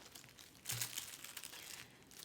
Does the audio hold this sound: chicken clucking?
no